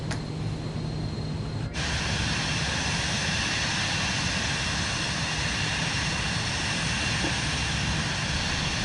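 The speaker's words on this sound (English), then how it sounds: "Looks like there's an airplane over there either taking off or landing." An airplane taking off or landing at LAX in Microsoft Flight Simulator 2024, heard as a continuous broad jet-engine roar that holds steady and loud throughout, with no talk.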